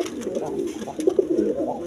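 A pair of Zira-necked pigeons coo at close range, low throaty rolling coos overlapping in a soft continuous murmur.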